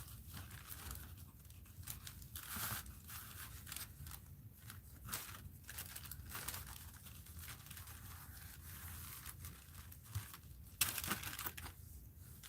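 Scissors cutting paper for a mixed-media art journal, a run of close, crisp snips and rustling paper strokes at a steady, moderately quiet level with no talk.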